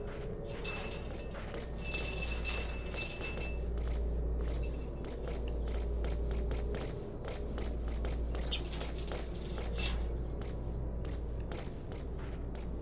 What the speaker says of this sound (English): the footstep sound effect reminds me of Digimon World